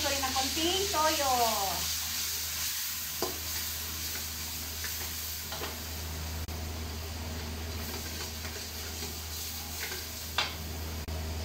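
Pancit noodles with soy sauce are stirred and fried in a pan, giving a continuous soft sizzle broken by occasional scraping strokes, while a person talks in the background.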